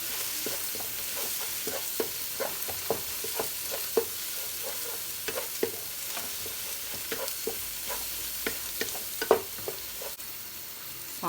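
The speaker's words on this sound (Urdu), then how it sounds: "اس کو ہم تھوڑا سا چمچہ چلائیں گے اس کا۔" A spoon stirring onions, garlic and green chili paste frying in a pan, with steady sizzling and repeated light scraping clicks at an uneven rhythm throughout.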